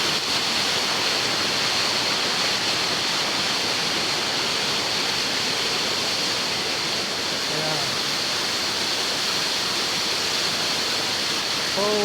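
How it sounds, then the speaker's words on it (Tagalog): Mountain waterfall rushing in a continuous, loud, broadband roar close by, steady throughout, with a couple of faint brief tones near the end. "kung saan nga ba galing ang tubig na umagos dito sa waterfalls na yan"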